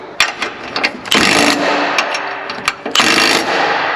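Nut being drawn tight on a recovery point mounted to a 4th-gen Toyota Tacoma, loud bursts of power-tool ratcheting and rattling in two main stretches, with short metallic clicks and taps between them.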